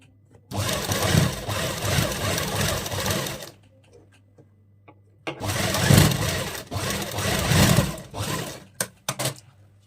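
A sewing machine stitches fabric for an Afghani salwar in two loud, fast, buzzing runs close by, separated by a few seconds of near silence, then a few short clicks at the end.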